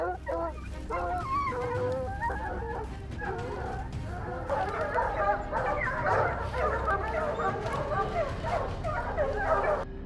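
Several hunting dogs on a boar and bear hunt barking excitedly, overlapping yelps and honking calls in irregular bursts, fairly close against outdoor background noise.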